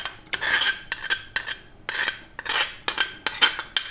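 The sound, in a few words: stirring milk and khoya with a spoon in a pot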